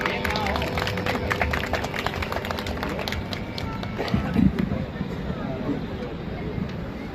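Audience applause at a handicraft fair event in Dwarka Sector 11, a dense, steady wash of clapping filling the whole stretch with little rise or fall.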